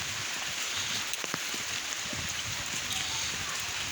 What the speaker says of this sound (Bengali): দেখেন বৃষ্টি পড়ে